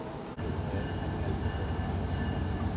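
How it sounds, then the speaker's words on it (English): An Alaska Railroad train led by two SD70MAC diesel locomotives rolls slowly into Talkeetna, making a steady, loud, continuous engine and wheel rumble close by. "Our train is slowly arriving with two flared SD70 Max on point."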